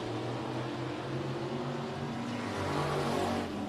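IMCA race cars roar around the corner at Barona Speedway in Lakeside, California, a steady blended drone of several engines at a distance with no break in the continuous noise.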